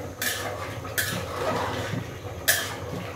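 Chicken and flat bean seeds being stirred in a pot, with a spoon clinking sharply against the metal three times over a low sizzle.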